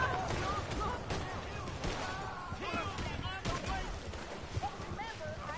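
Scattered gunshots crack repeatedly amid a busy mix of Red Dead Online game sounds and chatter, with several sharp bursts standing out from the background.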